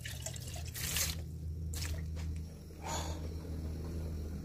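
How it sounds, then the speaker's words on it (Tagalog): A small amount of water poured into a cooking pot while preparing a saluyot (jute leaf) dish, heard as a few short splashing bursts and drips over a low steady hum, close and fairly quiet. "Kunting tubig. Basta lang pang luto na."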